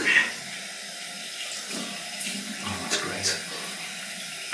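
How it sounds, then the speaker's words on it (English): Water runs steadily from a tap into a sink, with a few faint splashes and clinks over the flow. "Cold water rinse."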